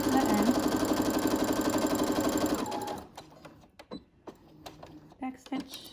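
A sewing machine stitches a fabric medical mask, running in a fast steady mechanical chatter for about three seconds before stopping, followed by quieter handling clicks and rustles.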